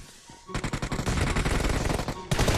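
Automatic gunfire from the video game PUBG Mobile rattles in a rapid, loud, close stream of shots after a brief quiet start, pausing momentarily before another burst begins.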